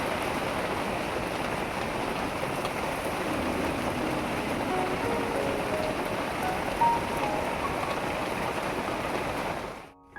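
Steady rain falls on a rainy day beside a clay stove where fish is being grilled, a dense even hiss that holds throughout and stops abruptly at the end, no talking.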